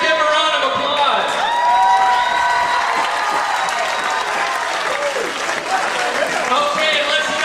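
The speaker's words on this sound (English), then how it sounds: "Give him a round of applause." A crowd applauds and cheers the winner of a 2005 sauerkraut eating contest as he receives a crown, dense continuous clapping with whoops and voices mixed through.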